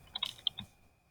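A few quick keystrokes on a computer keyboard, soft clicks tapped close by in a short burst before fading to quiet.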